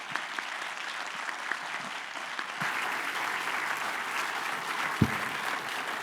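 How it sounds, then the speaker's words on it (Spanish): Steady audience applause at the close of a plenary meeting session, a sustained wash of many hands clapping at moderate volume with a few sharper claps and a thump near the end. "yo les pediría un aplauso para toda la mañana maravillosa que hemos tenido"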